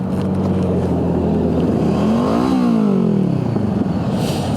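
A Honda CB500 motorcycle fitted with a Kaufman's Shorty exhaust drones close by, its engine pitch rising then falling as it revs on a ride, steady and loud without speech.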